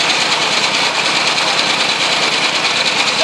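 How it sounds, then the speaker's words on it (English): A homemade three-cylinder engine runs steadily at close range, giving a loud, continuous buzzing drone with a fast, even pulsing throughout and no voices. "Sounds kind of like a three-cylinder."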